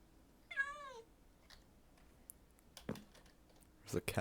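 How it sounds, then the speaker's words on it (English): A cat gives one short, clear meow, followed by scattered soft clicks and keyboard-like taps in a quiet room. "There's a cat in the courtroom."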